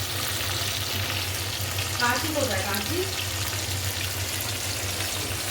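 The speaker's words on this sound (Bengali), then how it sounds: "এই মাছটা ভাজা হোক ভালো করে কড়কড়ে করে" Fish frying in hot oil until crisp; a steady, dense sizzle fills the whole stretch while someone briefly speaks over it.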